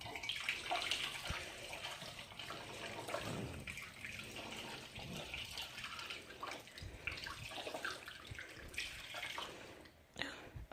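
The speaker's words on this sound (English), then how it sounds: "So we're gonna dump the floor wash in." Spiritual floor wash mixture is poured into water, a steady, fairly faint splashing and gurgling pour that continues for several seconds before tapering off at the end.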